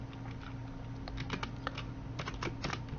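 Computer keyboard keys pressed while typing in an Excel spreadsheet, including Tab and Enter, in a run of quick, irregular clicks over a steady low hum, close and clear with no talking.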